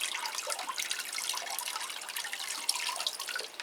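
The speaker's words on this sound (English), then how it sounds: "Give it a nice wetting under the leaves" Water poured under the leaves of a potted plant, a faint, soft trickle and splash with scattered drips, close and continuous for a few seconds.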